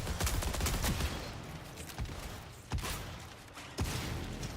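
Gunfire in a video game match with a sniper bot, several loud sharp shots at irregular intervals over a dense noisy background of the game's action.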